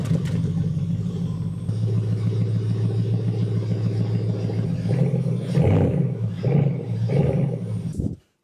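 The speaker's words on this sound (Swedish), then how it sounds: "Så vi lägger mikrofonen här och provar att göra en kallstart." A Porsche Panamera GTS engine cold-starting, close-miked: a loud steady low rumble and roar running throughout, with a few rev swells near the end before it cuts off abruptly.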